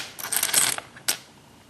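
A worn silver Mercury dime drops onto a pile of similar coins, a bright metallic clatter of jingling pieces followed by a second short clink, close and alone without speech.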